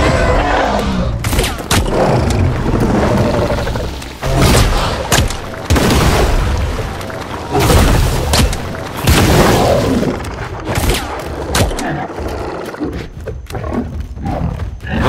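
Repeated gunfire bursts in Lego Fortnite as a player shoots at a target, loud broadband cracks in irregular clusters over a dense, busy game soundscape with booming impacts, no talk.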